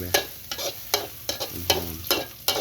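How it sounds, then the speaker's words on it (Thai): Dried chilies and garlic stir-fried in a hot pan, a spatula scraping in quick repeated strokes over a steady close sizzle, with no voices. "ผัดพริกใส่กระเทียมหอมๆก่อนพริกแห้งเลยพี่น้องเลย"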